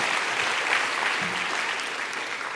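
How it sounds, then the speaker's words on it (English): Steady applause from a banquet crowd at an awards dinner for a national schools racing-car design final, a continuous even wash of clapping held at one level throughout. "Yeah, you can applaud, it's okay, you're most welcome to."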